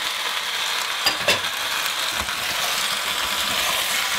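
Porcini mushrooms frying with potatoes and onion in a pan, a steady close sizzle with a few scraping clicks from stirring.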